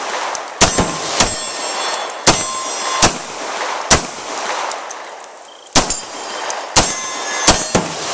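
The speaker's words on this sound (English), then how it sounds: "That's a pretty, really neat gun to shoot." Beretta 92FS pistol fired outdoors: about ten sharp, loud single shots at irregular intervals of roughly a second, each with a ringing metallic tail and no talk between them.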